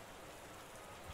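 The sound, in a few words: heavy rain, from a video game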